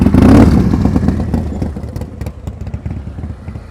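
A motorcycle moves at slow speed during a slow-speed riding practice session in Massachusetts, with a loud engine burst at first that eases into a lower rumble with light clattering.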